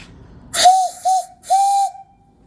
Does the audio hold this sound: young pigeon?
no